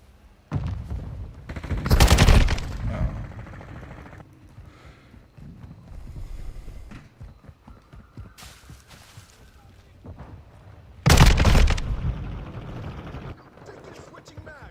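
Kastov 762 rifle fire in Call of Duty: Modern Warfare II comes as two loud, close bursts several seconds apart, with quieter clattering and mechanical handling noises between them.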